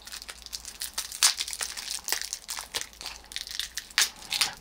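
Packaging on a parcel is crumpled and crushed as it is opened, giving continuous close crinkling and crunching with sharp louder bursts throughout, no voices.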